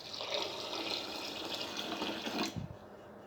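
Water pours into a kitchen bowl while cooking bisibelebath, a steady, close splashing rush that cuts off abruptly near the end.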